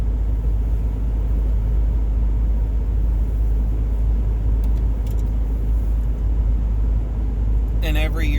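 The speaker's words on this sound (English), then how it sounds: "Still have the car. That's what we're in right now." Low, steady engine rumble fills a car interior while driving, a constant deep drone with faint road noise and a brief higher sound near the end.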